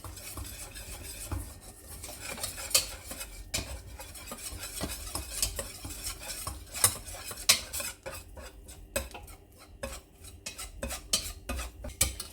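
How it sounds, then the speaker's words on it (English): A whisk beats a butter and all-purpose flour paste in a pan, giving rapid, irregular metallic scraping and clinking against the pan with a soft sizzle beneath, close and steady over several seconds with no talking. "With a whisker, you're going to start whisking it vigorously."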